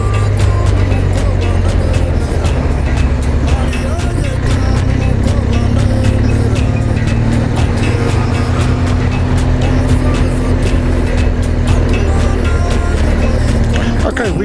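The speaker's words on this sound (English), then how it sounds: "we're driving on the right hand side of the road here" A car drives along a road in Rwanda, with a steady, loud engine and road rumble running unbroken throughout and voices talking faintly inside.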